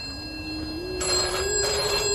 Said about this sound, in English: Answer that bloody phone!